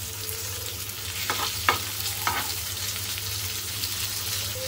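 Pomfret fish shallow-frying in a pan and being flipped over, a steady low sizzle with a few brief scraping taps of the turner near the middle, no speech.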